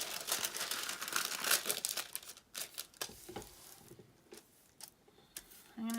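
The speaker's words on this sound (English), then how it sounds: "Now I'm going to take my wax paper." Sheets of wax paper crinkle and rustle up close in a crochet craft setup, a dense burst of crackling that thins into scattered crinkles and taps, with no talking.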